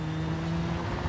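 A Skoda rally car in the WRC 5 video game at Rally Poland gives a short, steady engine hum with a sustained tonal drone, with no talking.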